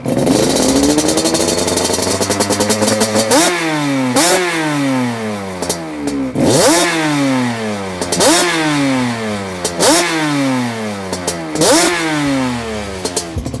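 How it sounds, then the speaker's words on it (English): A Yamaha Banshee ATV engine with a loud DMC aftermarket exhaust revs repeatedly, sweeping up and dropping back in about five sharp bursts over a steady idle rumble. "If you guys are curious about the DMC exhaust, how it sounds, well, here you go."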